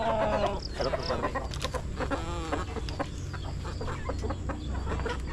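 Chickens clucking and squawking close by in a farmyard, with repeated overlapping calls against steady background noise.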